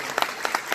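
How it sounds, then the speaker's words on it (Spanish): Applause at a gathering honouring the people of Trinidad, heard as a short patter of a few distinct hand claps at moderate volume, with no voices over it. "Un aplauso"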